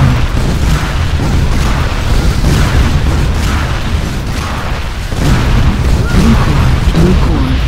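Heavy, sustained rumbling explosion as the Blue core is destroyed in Unreal Tournament 3 Warfare, loud and dense with booming bursts and crackling debris throughout, with faint announcer speech mixed in.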